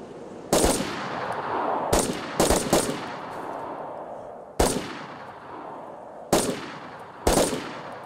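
Gunfire aimed at a vehicle in the video game DayZ, six sharp, loud shots spaced irregularly, one close pair among them, each trailing off in a long echo over faint background rumble.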